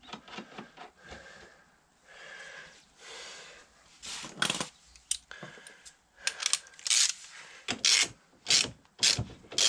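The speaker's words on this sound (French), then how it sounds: "On remet l'écrou." A nut goes back onto the swingarm axle of a Yamaha MP3 500 scooter. Close, irregular metallic clicks and ratcheting turns come in short bursts, sparse at first and then busier toward the end.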